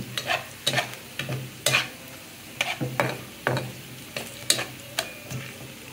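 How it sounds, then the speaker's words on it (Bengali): Khichuri of rice and lentils is tempered in hot oil in a pot, with a spoon scraping in quick, regular strokes about every half second over a soft background sizzle and no voices. "এই তো এখন আমি খিচুড়িটা একটু বাগার দিয়ে নিব"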